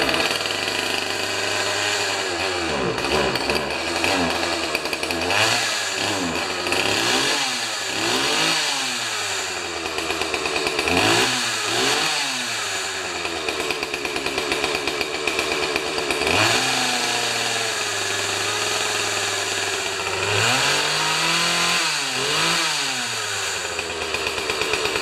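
A damaged Husqvarna 36 chainsaw runs steadily on fast idle, a loud, continuous buzzing engine drone with slight rises and dips in pitch throughout.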